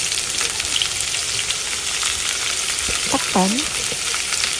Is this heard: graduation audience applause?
no